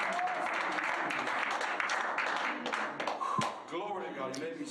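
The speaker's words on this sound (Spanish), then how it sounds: "denle al Señor un buen aplauso" A church congregation applauds steadily for several seconds, broad dense clapping with scattered cheers and voices mixed in, fading slightly toward the end.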